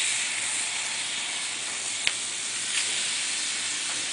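Pork chops sizzle on a Himalayan salt block, a steady broad hiss that stays close and even throughout, with a brief sharp tick midway.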